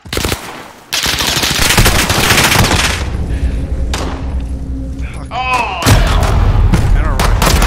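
Heavy, nearly continuous automatic gunfire and booming explosions fill a Call of Duty Modern Warfare match, loud and close, with players talking over the din.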